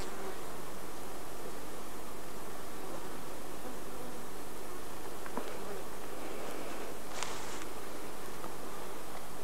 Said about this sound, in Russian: Пчелы отбиваются от мошки.